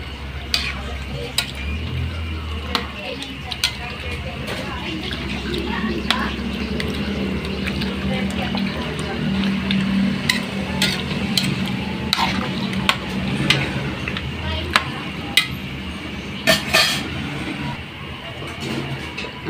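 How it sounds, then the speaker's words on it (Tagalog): A spoon clinks and scrapes while chicken pochero is stirred in a pot, with a soft bubbling simmer underneath and sharp metal taps scattered through, close by. "So, haluin na natin."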